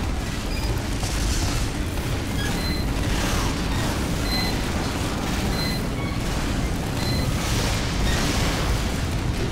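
Bomb explosions in Team Fortress 2 boom one after another in a dense, continuous barrage, loud and close, with a rumbling low end and scattered bursts throughout.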